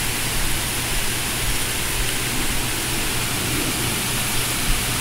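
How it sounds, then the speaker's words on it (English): Heavy rain pours steadily during a thunderstorm in the Bronx, a dense, continuous hiss of downpour that is loud and close, with no thunder or voices. "This is a lot of rain falling."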